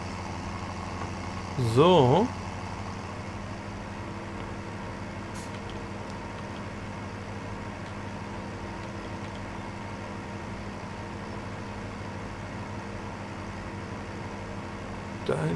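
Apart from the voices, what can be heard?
tractor engine in video game Landwirtschafts-Simulator 17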